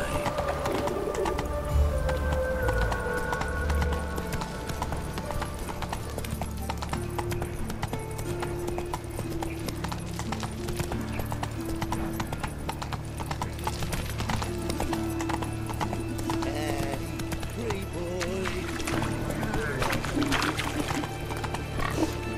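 Roach, the horse in The Witcher 3, gallops with continuous rhythmic hoof clip-clops beneath game music and ambient noise, fairly loud and steady throughout.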